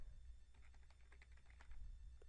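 Typing on a computer keyboard while entering a web address, a quick irregular run of light clicking keystrokes, close and fairly soft over a low background hum.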